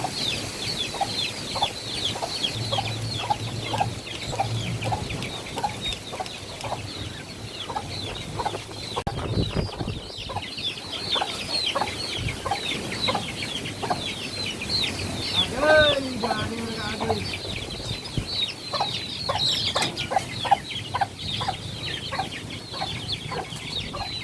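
Chickens cluck over and over against a steady outdoor background, with a few louder squawks and faint voices now and then.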